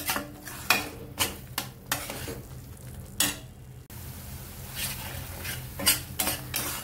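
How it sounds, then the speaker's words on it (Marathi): Chickpeas go into a pan of fried masala and are stirred, with repeated scraping clinks of a spoon against the pan over a low sizzle, the strokes coming in irregular bursts. "यामध्ये आता मी छोले घालून घेणार आहे"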